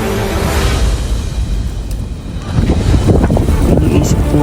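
Strong gusting wind at a campsite during a snowstorm buffets and roars continuously, growing rougher and louder partway through, with a voice faintly present.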